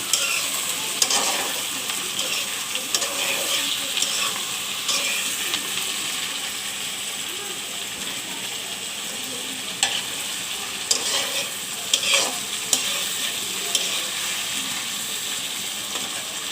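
Tomatoes sizzle steadily in hot oil in a pan, with a spatula stirring and scraping through them in intermittent strokes, close and continuous, with no voices.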